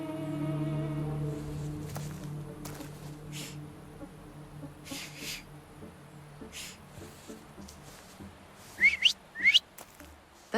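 Short whistled notes in The Thaumaturge video game, two bright rising chirps near the end over a low ambient hum and scattered game noises, with no talking.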